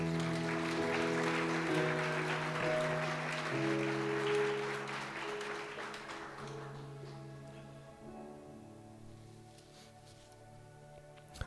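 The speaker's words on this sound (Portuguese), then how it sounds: "Você pode aplaudir o Senhor?" A church congregation claps together during a sermon, a steady loud wash of applause over sustained organ or keyboard chords that slowly fades toward the end.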